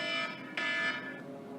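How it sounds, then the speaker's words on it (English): An electronic alarm goes off close by, a faint ringing tone that pulses twice over about a second and a half. "Sorry, that's my alarm."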